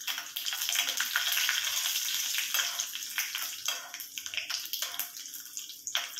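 Mustard seeds and red chilli sizzling and crackling in hot oil, a loud, steady fry with sharp popping spatters throughout, heard alone without talk.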